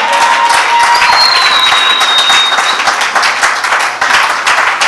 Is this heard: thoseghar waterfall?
no